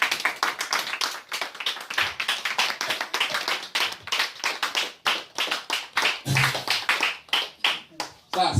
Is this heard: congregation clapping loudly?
yes